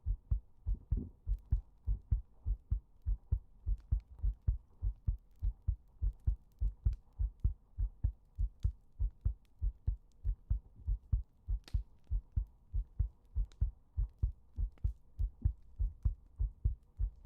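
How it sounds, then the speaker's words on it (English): A steady heartbeat thumps in a regular double-pulse rhythm throughout, close and low, with a soft hum beneath and no voices. "Heartbeat"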